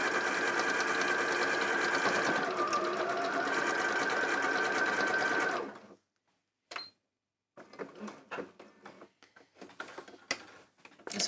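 A sewing machine stitching a tote bag whirs steadily at high speed for several seconds, then stops, followed by quiet clicks and handling noises.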